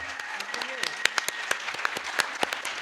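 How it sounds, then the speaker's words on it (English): An audience at a 2018 League of Women Voters town charter debate applauds the panelists, a steady patter of many hands clapping at moderate distance, with a few sharper individual claps standing out. "Big round of applause for the panelists."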